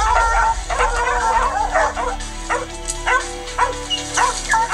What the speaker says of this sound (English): So we're going to try to get them dogs back out here.